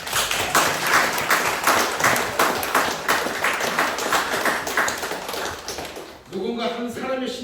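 Steady applause from an audience at a graduation ceremony for horse heritage guides in Jeju, dense clapping filling about six seconds before fading as a voice resumes.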